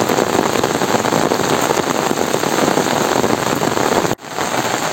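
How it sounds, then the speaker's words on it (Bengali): Heavy rain pours down outdoors in a dense, continuous hiss of drops striking surfaces, loud and close throughout, with one brief dip just before the end. "দর্শক বন্ধুরা বৃষ্টি পড়তেছে"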